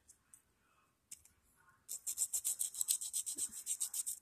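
A nail file scrapes across dip powder nails in quick, rhythmic back-and-forth strokes, close and fairly crisp, after a few quieter scattered rubs at the start.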